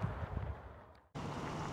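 Steady outdoor wind rushes and buffets the microphone on a cold, sunny winter day amid fresh snow in Finland, briefly dropping out before returning just as strong.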